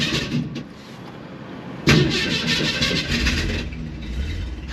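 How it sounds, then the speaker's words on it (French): A 1967 Ford Mustang V8 coupe engine cranks and catches with a sudden burst, then settles into a rumbling idle. "Allez, contact moteur."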